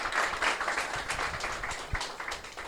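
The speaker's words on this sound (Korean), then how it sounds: "우리 정말 2시간 동안 끊임없이 얘기해 준 우리 시장님께 다시 큰 박수 한번 부탁드리겠습니다" Audience clapping for the Daegu mayor at a small indoor talk event, a short burst of dense hand claps that fades unevenly with a few louder individual claps.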